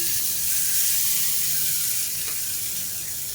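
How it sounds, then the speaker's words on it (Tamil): Hot tempering of mustard seeds, urad dal, curry leaves, asafoetida and two dried red chillies is poured into coconut chutney, giving a steady, close hiss throughout with no one speaking. "கடுகு, உளுந்து, கருவேப்பிலை, பெருங்காயம், 2 வரமிளகா போட்டு தாளித்ததை சட்னியில் கொட்டிடலாம்"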